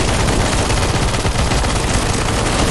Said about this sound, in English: stop shooting! Stop shooting, man!